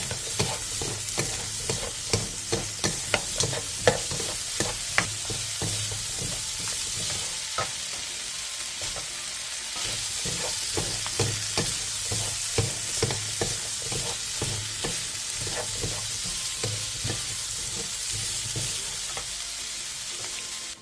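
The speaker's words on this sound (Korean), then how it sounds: "굴소스 1스푼 반과 다진 마늘 3분의 2스푼, 브로콜리를 넣고 2-3분 정도 더 볶아주세요" Broccoli being stir-fried with oyster sauce and minced garlic, a steady close sizzle broken by frequent scraping and clacking stirs of a spatula in the pan, with no talking.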